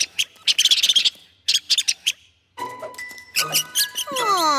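Cartoon mice squeak in rapid, high-pitched bursts, with clustered chirpy squeals, a short pause, then more squeaks and sliding whistle-like calls, loud and close with no speech over them.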